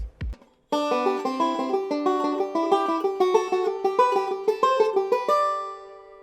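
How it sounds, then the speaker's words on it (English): A banjo plays rapid alternate index rolls on double stops, bright plucked tones moving up and down the neck in a quick, even rhythm after a brief thump. "playing a single alternate index roll per double stop, going up and down the neck 3 times"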